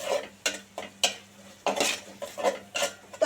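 Onion masala being stirred and fried in a pan, with a spoon scraping and clacking against the metal in quick, irregular strokes over a faint sizzle, close and fairly quiet with no talking.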